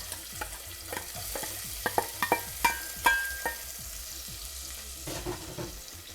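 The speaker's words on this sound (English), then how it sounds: "I'm going to go ahead and add my onions into this pot here." Onions sautéing in a pot with roasted cumin seeds for curry channa and aloo: a soft, steady sizzle with scattered scrapes and clinks of stirring, close and fairly quiet.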